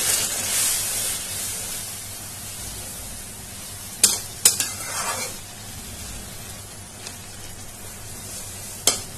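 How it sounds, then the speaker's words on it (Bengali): Tengra fish piyaji chochori being stirred in a pan after water is added, making a steady, close sizzle and bubbling hiss, with a few sharp clicks of the spoon against the pan scattered through. "ভালোভাবে নেড়ে দিচ্ছি।"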